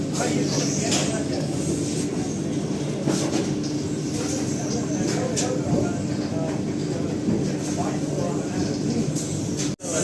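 A Vande Bharat Express train runs from Tiruchirappalli Junction toward Karur on its Madurai–Bangalore route, a loud, continuous rumble and rushing roar heard from inside the coach with faint clatter, while someone speaks over it.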